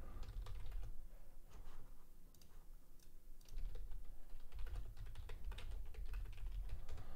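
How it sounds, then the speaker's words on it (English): Rapid, continuous clicking of a computer keyboard being typed on close by, with brief pauses between bursts of keystrokes. "If you do hear typing, that's just me making alerts"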